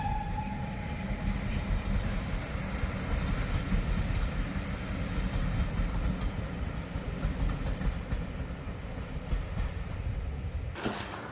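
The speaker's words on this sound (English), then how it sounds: "You can hear a train engine going." A train rumbles steadily past on a heritage railway line near Crowcombe, Somerset, a loud continuous roll of wheels and carriages that fills the whole stretch, with a brief whistle-like tone at the start.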